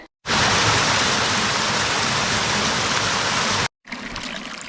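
A small spring or stream at a water source on the Appalachian Trail sends out a steady hiss of running water close to the microphone. It cuts off briefly near the end, then returns more quietly.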